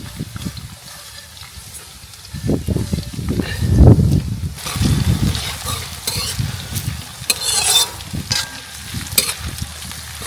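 Onions frying in a pan on a village clay stove with garlic paste, ginger paste and cumin added, a steady sizzle broken by stirring and scraping, close and moderately loud with no talking.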